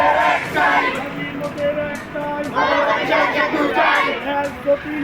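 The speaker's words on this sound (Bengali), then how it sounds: "মানববন্ধনে অংশ নেওয়া শিক্ষক ও শিক্ষার্থীরা স্লোগান তোলেন" Madrasa teachers and students at a roadside human-chain protest rally chanting slogans together, a loud rhythmic crowd chant in repeated call-and-response phrases with outdoor crowd noise.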